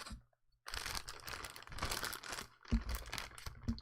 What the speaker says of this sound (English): And I also keep it in a plastic bag.